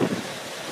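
Strong outdoor wind buffets a microphone in a steady broadband roar, loud and close, with no voices over it.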